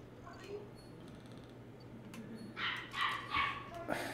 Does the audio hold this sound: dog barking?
yes